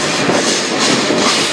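CN freight train rolling past close by on the rails, a loud steady roar of wheels and rushing noise with no pause.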